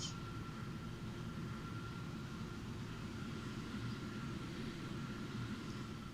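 Steady, continuous roar of a Vautour jet on landing approach in War Thunder, a broad low rumble with a faint high whine, constant and fairly distant-sounding with no speech.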